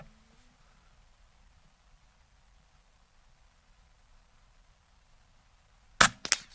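A single sharp crack from an Air Arms S510XS Stealth Carbine .177 air rifle near the end, after a long quiet stretch of backyard plinking.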